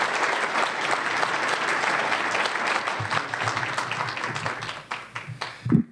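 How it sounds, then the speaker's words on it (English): Sustained audience applause in a museum lecture hall as a vegetation ecologist is introduced, dense and steady before thinning into scattered claps near the end. "So please join me in a warm round of applause for Todd Keeler-Wolf."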